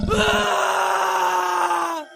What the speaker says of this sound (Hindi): तभी गोपी की चीखने की आवाज आती है।